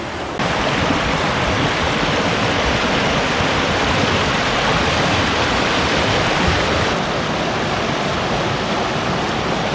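A river flows steadily past an old quarry, its broad, continuous rushing wash close and loud, dense and unbroken for the whole stretch with no voices over it.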